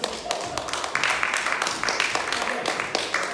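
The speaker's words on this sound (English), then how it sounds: "Give it a round of applause" Audience applause at a mentalism show, a crowd clapping steadily throughout with a rapid patter of individual claps, fairly close and filling the room.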